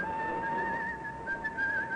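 A man whistles a steady, clear tune among weekend crowds at Waterloo Station, the melody sustained and fairly close over a soft crowd murmur.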